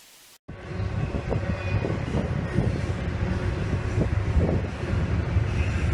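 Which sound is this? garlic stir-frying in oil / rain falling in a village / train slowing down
train slowing down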